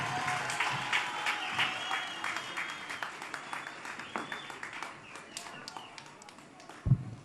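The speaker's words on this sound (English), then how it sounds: "Can we give the President a huge round of applause?" Scattered clapping from a crowd, thin and uneven rather than a full ovation, with a louder thump near the end.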